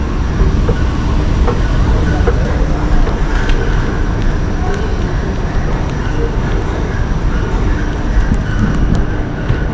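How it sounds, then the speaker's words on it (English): Steady, loud rumbling of a driverless underground metro train in motion in Brescia, Italy, with faint rhythmic clatter from the rails and no voices. "I'm about to take the metro to the Brescia train station"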